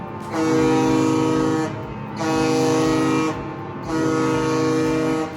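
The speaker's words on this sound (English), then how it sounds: "all the ships in the harbour absolutely honk their horns" Three long, deep ship horn blasts sound one after another in a harbour with short gaps between, each a steady loud tone rich in harmonics.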